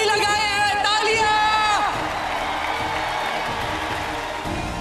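A crowd at a target-shooting competition breaks into cheering and applause after a pair of accurate shots, loud and continuous, with overlapping voices and a bright musical tone fading early on.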